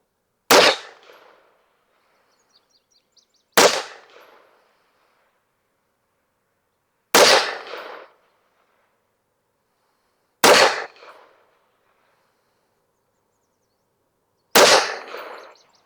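Five sharp rifle shots ring out at a 25-yard range, each a loud crack followed by a short fading echo. They come at irregular intervals of three to four seconds against near silence.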